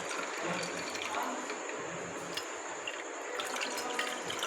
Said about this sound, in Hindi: गिलास इसमें बर्फ़ डाल दिया, तो अब हम इसमें अपना जूस डालेंगे।